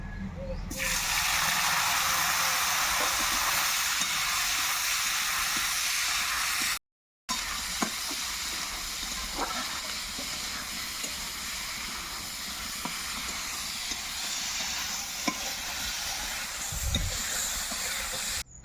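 Flat beans and neem leaves fry in a generous amount of hot oil, an intense, continuous sizzling hiss that starts almost at once and runs on with small crackles, interrupted by one short gap.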